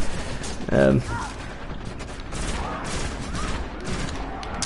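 Gunfire in the Destiny shooter game, a short loud burst of rapid shots followed by scattered fainter shots and mechanical clatter over a busy background.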